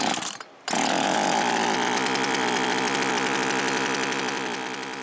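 A small chainsaw engine runs after a carburetor replacement, air cleaner element and top cover off, giving a loud, buzzing, high-revving drone close by after a brief quiet gap at the start.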